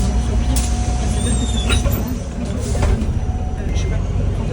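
City bus ride in Verona, with a steady low engine rumble and road noise throughout, a hiss of air brakes and faint squeaks, and people talking quietly in the background.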